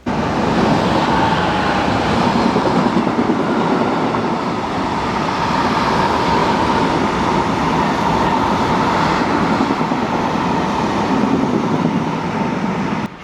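A freight train passing on the Roanne to Saint-Étienne rail line, a loud, steady rumble and rolling clatter of wagons that lasts throughout, close by, with no one speaking.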